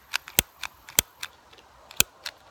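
Scissors snip through a long piece of cord in a series of sharp, separate clicks with uneven gaps, close and fairly quiet, with no talking.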